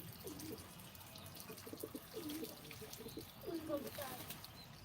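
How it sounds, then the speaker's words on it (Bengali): A pigeon coos inside a cage, giving soft, repeated throaty coos several times over a faint background hum. "দেখেন আপু ভিতরে একটা ভিতরে একটা কবুতর আছে কবুতরটাকে ছাড়ো"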